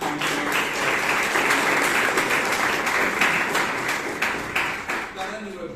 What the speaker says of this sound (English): So big round of applause for the previous counselor.